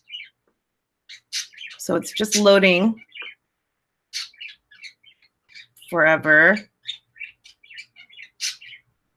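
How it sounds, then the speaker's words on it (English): Pet birds chirp and squawk indoors in scattered short bursts, with two louder harsh squawks, while a person speaks over them. "And you can hear my birds freaking out."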